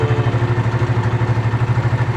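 A motorcycle engine idles close by with a steady, rapid pulsing chug and light mechanical clatter, running on its own without talk.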